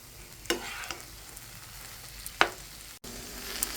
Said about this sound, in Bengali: খুব সুন্দর করে মশলাটা মিশিয়ে নিচ্ছি।